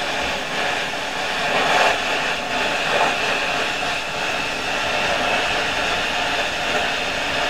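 A plasma cutter slices metal while the torch is dragged along its tip against a cutting guide: a loud, steady, rushing hiss holds throughout with only slight surges, close by, and no talk.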